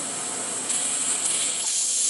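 Loud, steady steam hiss vents from a steam engine pushed past safe limits in destructive testing, broad and continuous with slight surges toward the end.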